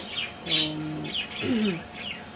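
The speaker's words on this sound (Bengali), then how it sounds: "পাখিগুলো জানলায় আছে" Several bright chirps and short calls from small birds, close by, in a few quick bursts with brief pauses between them.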